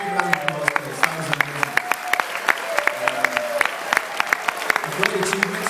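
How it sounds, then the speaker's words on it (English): Audience at a St Patrick's Society ball in Hong Kong bursts into sustained applause, a dense patter of many hands clapping steadily for several seconds, with some talk underneath. "Big round of applause for this."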